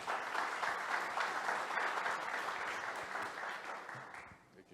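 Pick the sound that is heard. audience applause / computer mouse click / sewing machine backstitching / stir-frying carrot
audience applause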